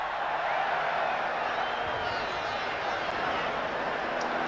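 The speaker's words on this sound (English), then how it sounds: "Some of the crowd here at Eden Park this afternoon" Large crowd at Eden Park for the 1988 Rugby League World Cup final between New Zealand and Australia, a steady, dense murmur of many voices that stays broad and unbroken throughout.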